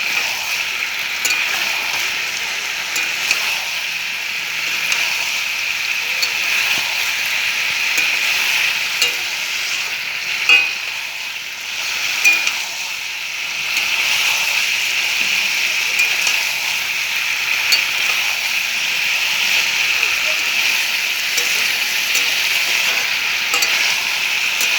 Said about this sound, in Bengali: এখন খুন্তি দিয়ে নাড়াচাড়া করব